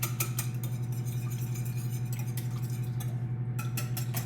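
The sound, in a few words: whisking carrot cake batter in a bowl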